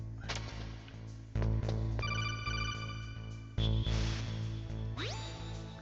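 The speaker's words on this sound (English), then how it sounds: "Pick up the phone, totally called it." A telephone rings in the video game Metal Gear Solid, giving repeated electronic ringing tones over a loud, steady game soundtrack with abrupt level changes, followed by a rising beep.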